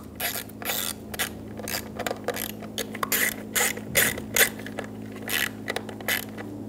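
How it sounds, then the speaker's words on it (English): Bolts on a 2000-2007 Ford Focus electric fuel pump assembly are snugged down with a ratchet, giving repeated short bursts of clicking and metallic mechanism noise at close range. "Snug the bolts down."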